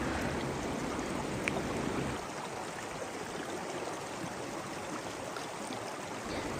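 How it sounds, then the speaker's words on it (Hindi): A small stream of water flowing at a forest water body in the Jim Corbett area, a continuous close rushing and trickling that stays steady for the whole stretch, with no voices. "ये एक वाटर बॉडी है जहाँ से थोड़ा सा पानी का फ़्लो है"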